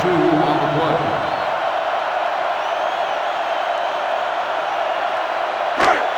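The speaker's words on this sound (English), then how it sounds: "This sellout crowd is really making a difference now as these guys can't even call the play" Loud, steady roar of a sellout stadium crowd in the NCAA 06 college football video game, California at Oregon, continuing without a break, with a short sharp thump near the end.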